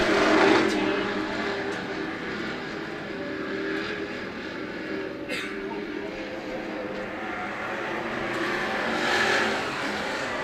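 Sportsman race cars roar around the oval at Freedom Motorsports Park, a continuous loud engine drone that rises and falls as cars pass, heard from a distance behind a track announcer talking.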